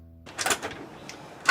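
Someone at a door, with a few knocks or bangs close by in a quiet room: a cluster of thumps followed by one more sharp knock after a pause.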